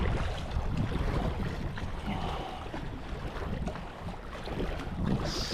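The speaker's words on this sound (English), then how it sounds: "We got a little bit of a wind right now." Wind gusts across a lake during trout fishing on Big Bear Lake, a broad rushing noise buffeting close to the microphone, with faint water sounds underneath and no voices.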